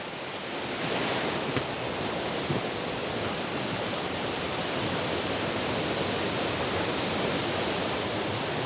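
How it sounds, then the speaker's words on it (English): Wind blows outdoors near Plodda Falls waterfall, a dense, steady roar of rushing air and falling water that stays loud and unbroken after a slightly softer start. "Bit windy, isn't it?"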